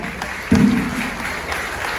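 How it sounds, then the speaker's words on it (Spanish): A congregation at a Catholic Marian retreat applauds, a dense steady patter of clapping that swells suddenly and then holds level for a couple of seconds, with no clear speech. "un aplauso para la Virgen María"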